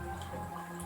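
Water drips faintly off a pet lifted out of its tank during cleaning, a brief, quiet patter over low background hum.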